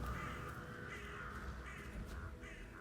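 Crows caw in the Dartmoor level of the video game Hitman 3, a few harsh calls over a steady, fairly loud ambient background, with no talking.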